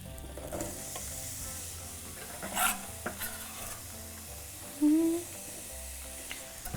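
Onion, garlic and bell pepper hit hot oil for gallo pinto rice, giving a steady close sizzle broken by stirring scrapes and one brief squeaky tone.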